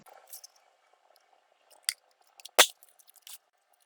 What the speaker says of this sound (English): I'm going to cut that out with Blossom Punch